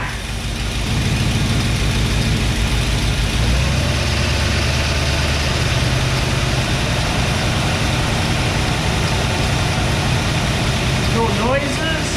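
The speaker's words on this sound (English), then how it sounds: "let's see if we can get her to go. Give her a little juice." A 1964 Chevy Impala station wagon's 327 V8 idles steadily with a deep, rumbling pulse that shifts slightly midway, loud and close.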